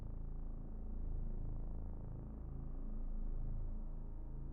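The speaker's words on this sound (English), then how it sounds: "I don't know if you guys could hear the cat up there" A cat purring close by, a low steady rumble that swells and eases in slow waves, heard alone with no talk.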